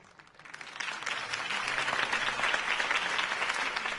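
A crowd applauds after Harvey Dent's campaign speech in the Batman Telltale video game, dense clapping that swells within the first second and holds loud and steady to the end.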